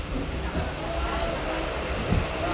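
The Azimganj–Rampurhat MEMU passenger train departs in the evening with a steady low rumble of moving carriages and faint rattling, and a brief clunk near the end.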